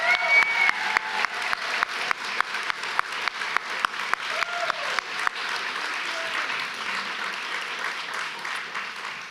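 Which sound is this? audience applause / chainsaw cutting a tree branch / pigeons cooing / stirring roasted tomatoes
audience applause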